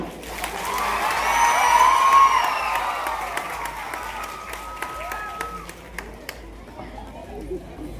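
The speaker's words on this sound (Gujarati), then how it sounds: "તાળીઓ વગાડો." An audience claps at a student award ceremony, a sustained wave of applause that swells, then thins into scattered claps and murmuring crowd chatter.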